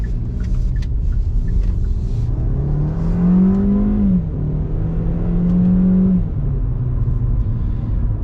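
A 2021 Kia Cerato with a 2-litre engine accelerates in sport mode from inside the cabin, a loud droning engine note climbing in pitch through the revs, easing briefly as it shifts, then rising again over road rumble.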